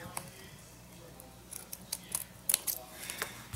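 Scissors snip through washi tape in a series of short, crisp cuts at close range, with light handling clicks between snips.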